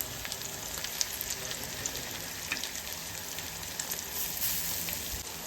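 Onion sizzles steadily in a pan with curry leaves, garlic paste and fresh coconut for a fresh-cashew bhaji. The close frying hiss runs continuously and evenly throughout, with no voices.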